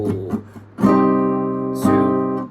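A guitar plays the pre-chorus chords of a song. A few soft taps lead into two full, ringing strums about a second apart, close and clear, with no voice over them.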